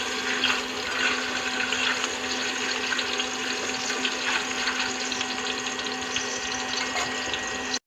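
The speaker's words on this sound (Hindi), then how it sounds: "ତେଲ ଗରମ ହେଇଗଲା ଏଥିରେ ଅଣ୍ଡା ପଡ଼ିବ" An egg fries in hot oil during evening home cooking in a village kitchen, giving a steady, dense sizzle that holds at an even level throughout, with no one talking.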